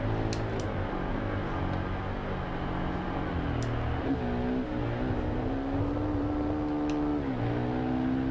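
A Yamaha R1 motorcycle engine in the racing game RIDE 2 climbs steadily toward redline, a loud continuous whine rising and dipping in pitch as it is held in the upper revs, with a few faint clicks above.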